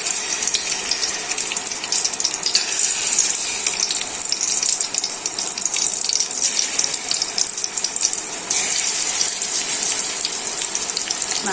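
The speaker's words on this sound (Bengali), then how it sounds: "তেলটা গরম হয়েছে, মাছটা দিয়ে দিচ্ছি।" Fish frying in hot oil in a home kitchen, with a steady, loud hiss and crackle that runs unbroken for the whole stretch.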